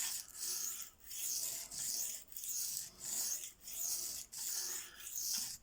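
A knife blade strokes steadily across a Venev bonded diamond sharpening stone, giving a close, dry rasping scrape that repeats in an even rhythm of about seven passes with short pauses between, and no talking.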